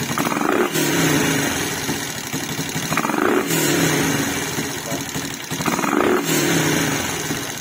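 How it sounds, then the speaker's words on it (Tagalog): A hot Suzuki Raider 150 Fi motorcycle fitted with a 32mm throttle body, its engine idling loudly and close, then revving in repeated bursts with a hard, rough exhaust note. "Ito ang kanyang tunog."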